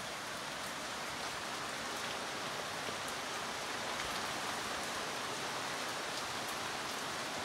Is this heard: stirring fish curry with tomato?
no